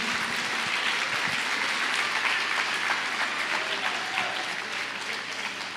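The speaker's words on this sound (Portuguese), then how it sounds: "Você pode aplaudir ao Senhor?" Church congregation clapping for the Lord in a sustained, full round of applause from many hands, steady and fairly close, gradually easing off toward the end.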